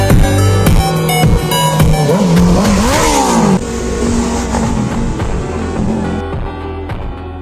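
Superbikes fly by on the Mumbai–Goa highway, loud engines roaring and revving as they pass close, pitch sweeping down after each passes, followed by a fading drone, with no talking.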